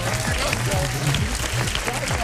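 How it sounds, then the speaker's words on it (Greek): Studio audience applause for Trifonas Samaras on a Greek television show, dense sustained clapping with music and a voice running underneath. "Δώστε ένα χειροκρότημα στο Τρίφωνα Σαμαρά"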